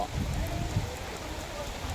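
Rain falling steadily outdoors on an afternoon, a continuous soft wash of drops at even, moderate loudness throughout, with no distinct voices standing out.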